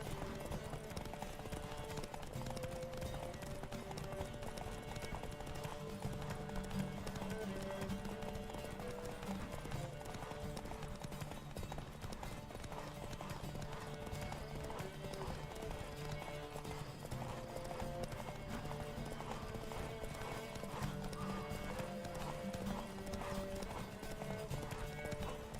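Horses gallop in a race in The Witcher 3: Wild Hunt, with a steady, quick clatter of hoofbeats that runs unbroken for the whole stretch, fairly quiet in the mix.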